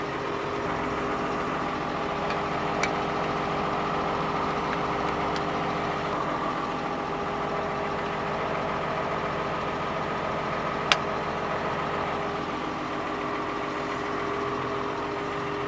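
A T7 tractor engine idles steadily and close by, a constant low rumble with a few faint clicks over it and no voices.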